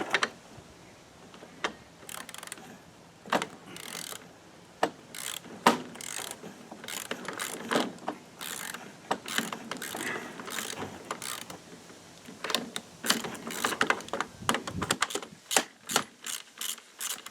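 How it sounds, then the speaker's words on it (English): A ratchet wrench turns a 9/16 bolt on a Craftsman lawn mower under repair, with many quick clicking ratchet strokes in uneven bursts, close and fairly steady, and no talk. "looks like a 9/16 to me, which I believe what I have in the ratchet"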